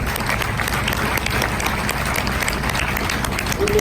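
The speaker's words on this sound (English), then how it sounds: "you all give a round of applause for Leroy is here." Steady audience applause fills a gathering where a city mayor is speaking, a dense, even wash of many hands clapping throughout with a faint voice beneath.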